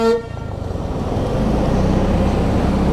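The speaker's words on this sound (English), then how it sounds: "That is one heavy truck." A heavy truck grinds slowly up a hill on the Mae Hong Son Loop road to Pai, its deep engine drone rising into a steady, close rumble after a brief horn-like toot at the start.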